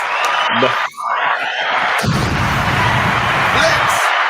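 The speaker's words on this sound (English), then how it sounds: "round of applause" A crowd in a stream's free seats breaks into loud cheering and yelling, with a brief dip early on before a dense roar of whoops and clapping carries on for several seconds.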